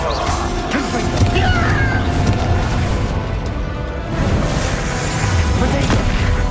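Confringo blasting spell in Hogwarts Legacy combat: repeated crashing booms and smashes under constant dense battle noise, loud and busy, with squealing creature sounds mixed in.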